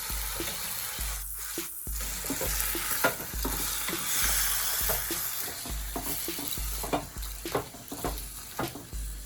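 A spoon scrapes and stirs chopped carrots, celery and onions in a hot pot, each stroke clattering in a steady repeated rhythm over a continuous close sizzle.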